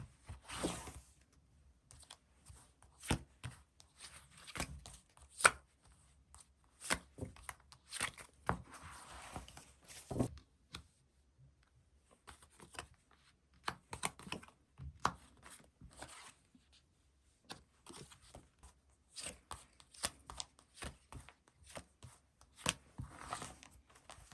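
Tarot cards shuffled and drawn during a Korean tarot reading, heard as many short dry flicks, riffles and slaps in irregular bursts close to the listener, with quiet gaps between them and no talking.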